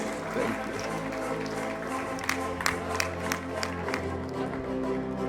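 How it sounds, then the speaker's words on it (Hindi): Applause at a university CSR best-practices award ceremony, with scattered claps that build into fuller crowd clapping partway through, heard at moderate distance over a murmuring hall and background hum. "जोरदार तालियां for the entire team of आनंद आश्रम चैरिटेबल ट्रस्ट"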